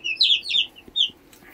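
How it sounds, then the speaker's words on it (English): Baby chicks peep in a short burst of high, bright chirps close by, several quick calls in a row with small soft scratches in between. "And now we got chickens. Little baby chicken."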